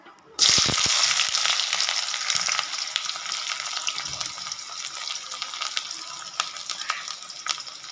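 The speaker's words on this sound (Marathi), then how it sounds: "कांद्याला छान असं फ्राय करून घ्यायचं थोडंसं गोल्डन ब्राऊन होतपर्यंत" Chopped onion dropped into hot oil with spluttering mustard seeds, tempering for an okra bhaji, bursts into a sudden loud sizzle that settles into steady close frying with scattered small crackles.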